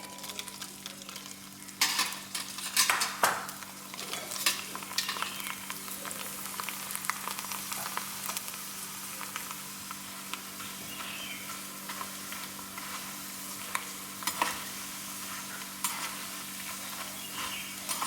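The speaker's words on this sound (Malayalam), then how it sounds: "എല്ലാം നമുക്ക് ഇതുപോലെ തന്നെ ഫ്രൈ ചെയ്തെടുക്കാം." Leftover-rice kondattam fries in hot oil with a steady soft sizzle and bubbling, broken by occasional stirring clatters, close and fairly quiet with no talking.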